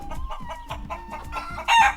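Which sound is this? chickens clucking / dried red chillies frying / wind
chickens clucking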